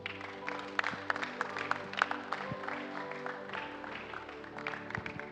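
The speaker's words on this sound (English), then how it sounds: "Please, a round of applause for A.C. Peter Onjoku." Applause from an audience in a church during a security training program, a steady patter of many hands clapping with a few louder claps standing out, with no talking over it.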